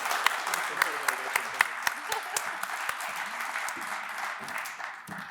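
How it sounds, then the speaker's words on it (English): Audience applause at an Indigenous Peoples Day celebration, a dense, moderately distant round of clapping with sharper individual claps standing out, tapering slightly toward the end. "Please give me a round of applause"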